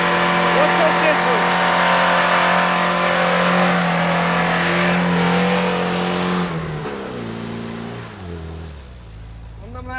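Audi Allroad engine revving hard while it climbs a steep off-road hill, a loud sustained drone at high revs that drops and fades after about six seconds.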